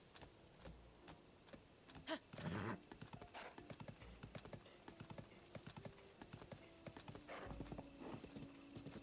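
Rhythmic clip-clop of a horse's hooves striking a hard surface in Zelda: Tears of the Kingdom, steady and fairly close, with a few brief jangling and rustling sounds mixed in.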